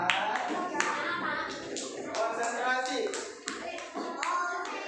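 Children and a teacher clapping in rhythmic bursts during a counting clap game in a classroom, sharp claps under and between spoken instructions, moderately close.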